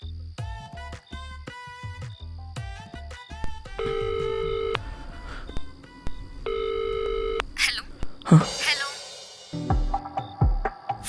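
Phone dialing sounds: a series of short keypad tones, two long ringback tone bursts, then a connecting click and brief electronic noise, close and clear with no talk.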